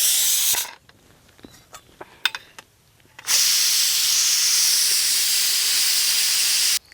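A pot of boiled onions for stuffed onion curry gives off a steady, loud hiss of steam after a stretch of quieter clattering and faint handling noises.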